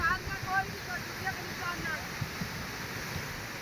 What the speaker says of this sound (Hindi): तो पहाड़ों से किस तरह से ये पानी नीचे आ रहा है और उसके बाद कहर बरपा रहा है।